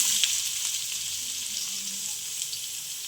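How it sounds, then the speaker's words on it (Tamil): Sliced onions frying in hot oil for Sri Lankan kottu roti, a constant close hiss and crackle of sizzling with no voices. "எண்ணெய் சூடாகிட்டு வெங்காயத்தை போடுவோம்"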